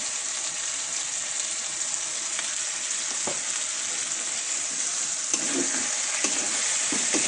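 Chicken fries with spices and is stirred in a pan, producing a loud, dense, unbroken sizzling hiss with occasional soft scraping knocks from the stirring.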